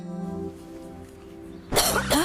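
A low hum fades out, then two harsh coughs burst out close and loud, one right after the other.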